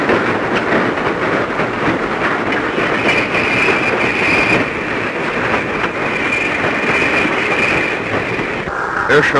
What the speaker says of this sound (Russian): груженные поезда